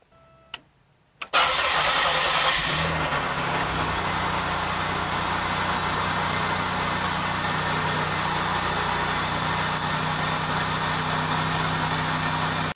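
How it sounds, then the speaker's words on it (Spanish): A car engine cranks briefly and starts, then settles into a steady, loud idle that runs unbroken for over ten seconds, with no voices. "voy a arrancar el auto para ver cómo está la batería"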